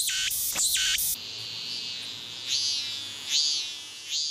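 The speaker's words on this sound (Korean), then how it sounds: "녀석들이 우는 순간을 자세히 살펴보죠. 이 녀석은 애매미입니다." A loud, steady high-pitched Meimuna opalifera cicada drone, with an opening stretch of pulsing buzzy bursts, then a sustained whine rising in three swelling phrases near the end.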